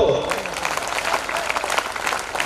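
A scout class at a school prize distribution claps in a rhythmic pattern, a loud, sustained burst of many hands beating together in a steady pulse.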